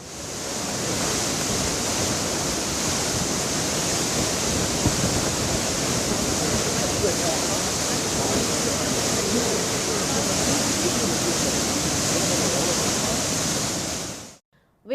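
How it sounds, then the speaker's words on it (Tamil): Water from the Bhavanisagar dam is released into the Lower Bhavani canal as a loud, steady rushing roar that runs evenly for about fourteen seconds before cutting off abruptly. "இதையடுத்து பவானிசாகர் அணையிலிருந்து கீழ்பவானி கால்வாயில் நேற்று அமைச்சர்கள் திரு முத்துசாமி, திரு சாமிநாதன் ஆகியோர் தண்ணீரை திறந்துவிட்டனர்"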